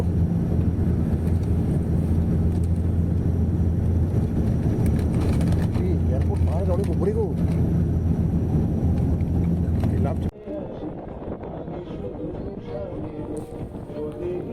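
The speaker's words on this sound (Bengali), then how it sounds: "সেখানে এই ফ্লাইটটি ল্যান্ডিং করার পূর্ব মুহূর্ত" An airplane on approach to Goa airport, set on a hilltop, gives a loud steady engine roar with wind rushing over it, then a sudden shift to a lower, quieter drone.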